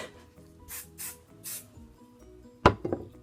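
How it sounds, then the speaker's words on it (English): Three soft bursts of hairspray misted onto curled hair, each short hiss spaced about half a second apart, followed by a louder handling knock near the end; no talking. "So I hairspray before and after."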